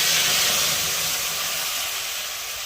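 Dry red chilli, cumin and a ginger, coriander and cumin spice paste sizzle in hot oil for a pond fish curry, a steady bright frying hiss that eases slightly toward the end.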